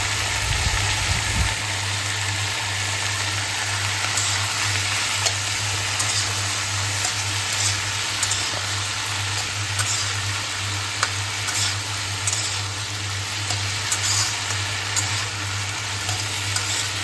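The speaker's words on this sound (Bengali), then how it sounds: "এটা আমি স্বাদ মতো লবণ হলুদ দিয়ে নেব। দেওয়ার পরে এটাকে আমি কিছুক্ষণ নাড়বো" Vegetables frying in a pan with salt and turmeric are stirred steadily, a continuous close sizzle with light scraping running throughout alongside a low steady hum, with no talk.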